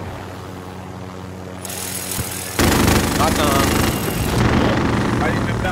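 A helicopter in the Warzone video game roars in loud and steady as its engine and rotor noise rises sharply midway, with a player's voice briefly speaking over the drone.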